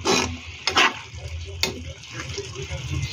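Coconut milk simmers in a pan with fish, giving a soft bubbling sizzle broken by a few scraping stirs of a utensil, with a person talking over it.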